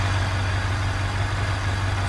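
Damaged SUV engine idling on after a high-speed crash in the BeamNG.drive driving game, a steady low rumbling drone with a constant hum and no variation, fairly loud and alone.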